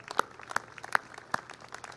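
A few scattered, sparse claps ring out one at a time with gaps between them at a college graduation ceremony, light and not a full ovation.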